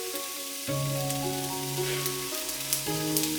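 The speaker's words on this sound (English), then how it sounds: "Into a wok with some garlic, followed by the red onions, the chestnut mushrooms. Saute for a while" Garlic, red onions and chestnut mushrooms sizzle steadily in a hot wok, a close, continuous frying hiss with faint stirring taps and a tonal hum underneath.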